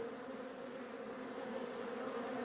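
A steady, close buzzing drone of a bee, continuous and fairly faint, with no voices.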